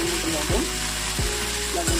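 Vegetables fry in a pan with salt while a spoon stirs them, giving a loud continuous sizzle with a few scraping strokes over two seconds, up close.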